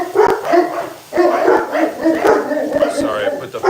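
Several dogs bark excitedly in a home kitchen after a pot is set down hard on the countertop, repeated loud yaps and whimpers mixed with people talking over them.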